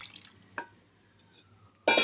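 Water pours into a pot of Naati-style chicken sambar, a brief trickle and splash followed by a louder burst of pouring near the end, close by and alone.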